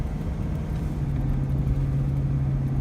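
An OMC 3.0 inboard boat engine runs steadily during winterizing, giving a low, even engine drone with a constant hum. It is fairly quiet and continuous, with no talking.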